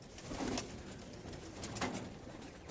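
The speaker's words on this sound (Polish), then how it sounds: "te tiplery to są gołębiami późno dojrzewającymi" Tippler pigeons, a late-maturing sport breed, coo in a loft during a morning training session, with two soft bursts of low throaty cooing over faint background noise.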